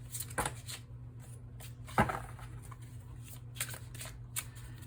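Tarot cards being shuffled by hand, close and fairly quiet, with two sharper riffles and several softer shuffling flutters over a low steady hum.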